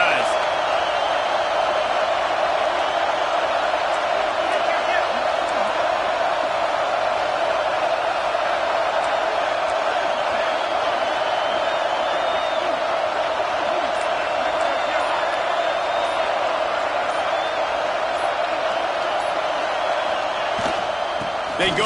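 A football stadium crowd at a Week 8 game keeps up a steady, dense roar throughout, with voices carrying over the continuous wash of noise.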